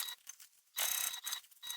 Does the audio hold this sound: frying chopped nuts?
no